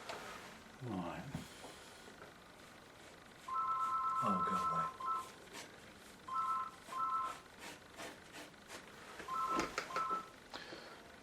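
A telephone rings in a quiet room where an acrylic still life is being painted, sounding in repeated bursts of electronic tone, one long then paired shorter rings, moderately loud over faint background shuffling.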